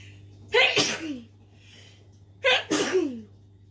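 Two sharp sneezes about two seconds apart, each a quick inhale followed by a loud burst, close to the microphone with a low steady hum underneath.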